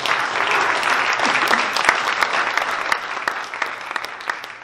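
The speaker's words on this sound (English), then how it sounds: "So a big round of applause for Todd" Steady applause from a crowd at an AI in entertainment and media meetup in Los Angeles, dense clapping with a few sharper individual claps standing out, gradually thinning toward the end without speech.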